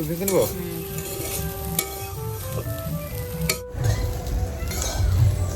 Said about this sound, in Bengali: এই যে আমাদের ভাত ভাজা হচ্ছে